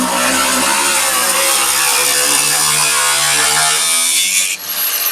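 Loud, continuous high-pitched whine of a power tool cutting through the metal bed of a C10 truck, close and steady, with a gritty buzzing edge, ending in a brief dip near the end.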